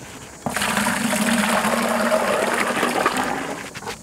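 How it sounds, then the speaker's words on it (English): Human waste and dissolving toilet paper sloshed back and forth into a gruel for a waterless flush latrine, a loud continuous watery rushing and churning that starts suddenly and holds steady for a few seconds. "as you pour it back and forth, you end up with a gruel"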